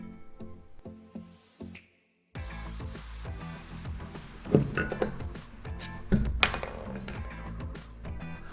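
Glass beer bottles clink together in a celebratory toast, with a few light taps followed by a dense run of close, bright clinks and clatter that continue over a busy background with no talking.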